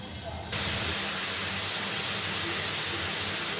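Mixed vegetables frying in a covered pan give a steady, loud hiss and sizzle that starts abruptly and holds evenly throughout, close and without talk.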